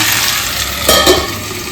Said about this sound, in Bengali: তা এই যে আলু ভাজা বসালাম